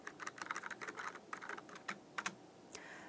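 Typing a chat message on a computer keyboard, a quick series of soft clicking keystrokes in uneven bursts, close and quiet, with a final louder tap near the end.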